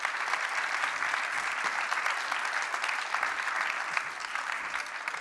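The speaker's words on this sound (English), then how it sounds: "So a round of applause for our startups" An audience applauds startup founders on stage at an AI and sustainability summit in Germany, steady dense clapping from a large crowd filling the whole stretch without letting up.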